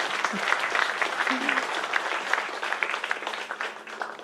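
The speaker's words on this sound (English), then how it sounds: "Let's give her a round of applause." A crowd claps steadily for several seconds, a dense and even wash of applause that holds at the same level throughout.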